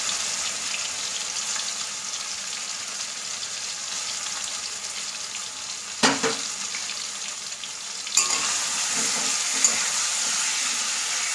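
Marinated raw snakehead fish pieces for kalia hitting hot oil in a pan, a loud steady frying hiss throughout, broken by a sharp clatter partway and a second jolt of sizzle soon after.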